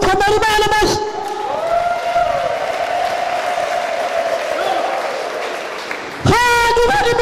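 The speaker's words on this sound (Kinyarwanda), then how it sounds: "Komera Imana amashyi" A church congregation claps and cheers for God during a sermon, a sustained wash of applause and crowd noise between stretches of a preacher's amplified speech.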